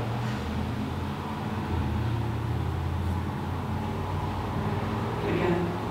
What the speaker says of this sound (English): As a truck revs up going down the road.